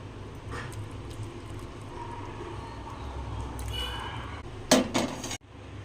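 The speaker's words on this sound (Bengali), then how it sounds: "আমি গ্যাসটা অফ করে দিচ্ছি আর এটা নামিয়ে নেবো" A gas stove is switched off and a pot of Bengali-style pineapple chutney with poppy seeds is lifted away: a low kitchen hum, then a few sharp metallic clanks and clinks near the end, close by.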